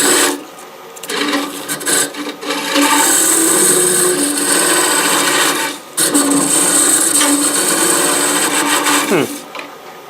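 A Pro-Forme Flexi Hollower carves outward scoops in wood, making loud, repeated rasping cuts that come in long scraping strokes with brief pauses between them, close and dominant throughout.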